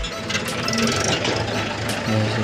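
A tractor hauling harvested rice home runs nearby, its engine giving a steady, loud, rumbling drone with a knocking texture throughout the short stretch.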